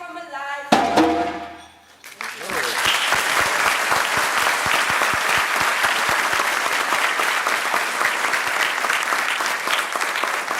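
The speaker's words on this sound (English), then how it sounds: "I think that deserves another round of applause" A conference audience breaks into sustained, loud applause after a short voiced lead-in, dense clapping holding steady for around eight seconds.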